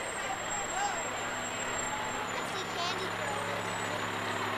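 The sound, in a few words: Stockton fire vehicles passing in a parade, International pumper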